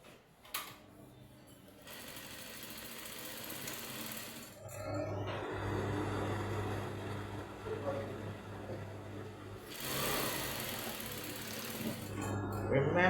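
A sewing machine runs steadily while stitching princess-dart bustier padding in half-inch seams, its motor hum continuous and moderately loud after a brief quieter start.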